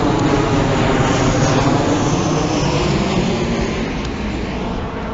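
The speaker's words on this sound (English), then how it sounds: "And a plane." An airplane flies overhead outdoors on a windy day, a loud, steady broadband roar that holds for the whole stretch and eases slightly toward the end, with no voices.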